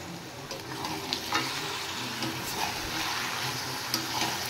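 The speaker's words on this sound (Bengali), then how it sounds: "আর মটনটা পেঁয়াজের সাথে ফ্রাই হবে।" Mutton sizzling with onions in a pan while being fried, a steady broad hiss with occasional scraping stirs and small crackles, close and continuous without any talk.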